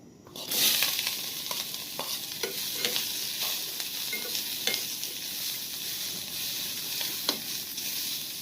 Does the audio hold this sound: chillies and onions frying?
yes